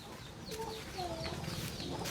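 Hens clucking inside a chicken coop on a rural farm, several short clucks and murmurs scattered over a steady outdoor background, close and moderately loud, with no talk.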